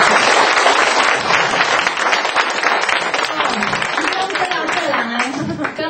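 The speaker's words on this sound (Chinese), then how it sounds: "若感觉好听，请你给我一个掌声" An audience at a 2008 Minnan-language speech contest bursts into steady, dense applause right after a speaker finishes, with many hands clapping loudly and continuously and faint voices mixed in.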